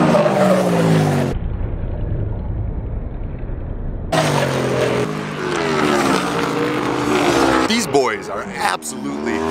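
Flat track racing motorcycles tear across a dirt mile oval, their engines roaring loud and close with sharp bursts of tire squeal and skidding as they sweep past in a continuous, intense rush.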